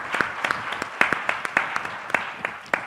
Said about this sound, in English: They deserve a round of applause, folks.